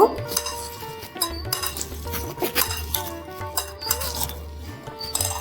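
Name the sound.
mixing chopped onion, green chilli, salt and turmeric by hand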